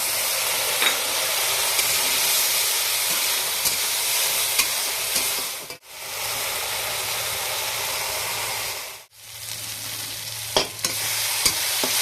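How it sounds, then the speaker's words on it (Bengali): A spice paste of chopped tomato, ginger, garlic and green chilli fries with onion in a pan for a rohu fish curry, a loud dense sizzle and hiss with stirring, briefly dipping twice, no talk. "এদিকে দেখো সুন্দর করে মশলাটা আমার সুন্দরভাবে কষানো হয়ে গেছে"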